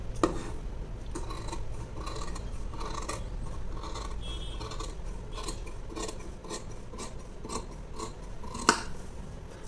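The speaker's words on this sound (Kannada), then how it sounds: "ಈ ಥರ ಇದನ್ನು ನೀಟಾಗಿ ಕಟಿಂಗ್ ಮಾಡಿಬಿಡ್ತೀನಿ" Scissors snip through fabric bias tape for a simple sewing design, a long run of close, crisp cuts repeating at a steady pace with light rustling between them.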